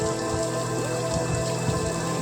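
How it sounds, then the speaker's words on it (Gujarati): A sudden heavy downpour hisses steadily on surfaces outdoors, with water dripping and pattering from the roof eaves, close and continuous with no speech. "એટલો વરસાદ ઘડીક વારમાં આવી ગયો"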